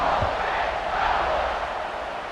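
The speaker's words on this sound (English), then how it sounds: "this crowd is feeling themselves after that last drive" Stadium crowd roar from the College Football 26 video game during a Florida vs. Ole Miss SEC matchup on PS5, a steady loud wash of cheering filling the whole moment.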